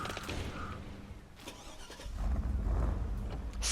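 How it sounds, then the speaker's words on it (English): V8 truck engine in the SnowRunner video game cranks and catches, then rises into a deeper, steady running rumble that grows louder toward the end, with no talk over it. "Sounds like a V8. It sounds amazing."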